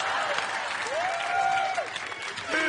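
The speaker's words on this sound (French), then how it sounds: "On les applaudit encore une fois" Audience applause at a stage hypnosis show, a dense continuous wash of clapping with a voice-like tone gliding through the middle and another at the very end.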